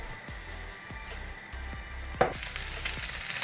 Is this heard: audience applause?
no